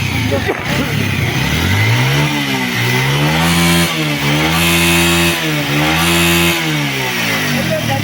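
A flat-engine motorcycle at a bike shop is revved several times in a row. The engine note rises and falls in loud, rough, close waves over a steady idle, with no speech over it.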